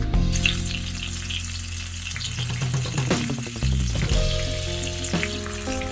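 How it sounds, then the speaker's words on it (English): Nigella seeds with red and green chilies dropped into hot mustard oil, a loud close sizzle and crackle that flares as they hit the pan, with stirring clatter throughout. "Next we'll add in the kalonji or the nigella seeds to it along with the red and green chilies."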